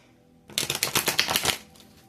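A quick riffle of tarot cards being shuffled, a short burst of crisp flapping and snapping close by, then quiet.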